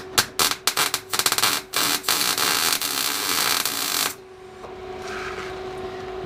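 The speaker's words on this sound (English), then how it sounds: "we'll put one spot butt weld in place" Spot butt welding a steel tube for Jeep XJ rear fender flares: a burst of sharp, crackling pulses for about four seconds, loud and close, then dropping to a low hum.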